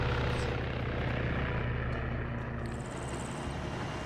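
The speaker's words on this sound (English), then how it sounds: "These guys might not hear that chopper" Helicopter flying in the Arma 3 video game during a large multiplayer battle, a steady rotor and engine drone holding throughout at moderate level with no talk.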